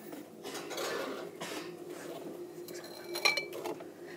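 A small spoon stirs sugar into a cup, making soft scraping motions with one sharp ceramic clink near the end. The sounds are quiet and close, with no talking.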